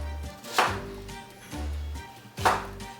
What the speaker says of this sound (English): we're just slice these nice little thinner slices of this onion